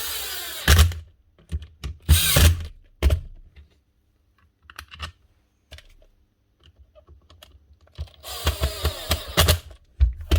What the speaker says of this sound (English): Close this up again, just so we can test the motor now.